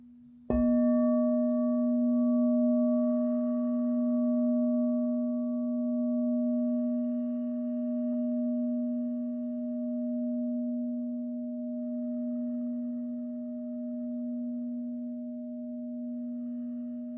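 A pure, steady sine tone for meditation starts suddenly and holds for many seconds, a low sustained hum with a few fainter higher partials, smooth and unbroken with no voices.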